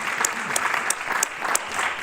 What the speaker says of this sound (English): So you can clap for that, because that's amazing.